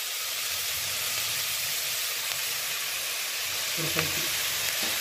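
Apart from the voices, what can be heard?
mutton kaima masala sautéing in pan with mint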